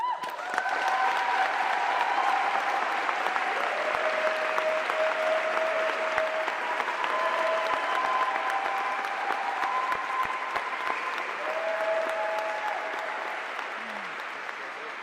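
A rally crowd gives sustained applause to welcome a Moms Demand Action volunteer, steady dense clapping that holds for the whole stretch and tapers slightly at the end, with a few scattered voices amid it.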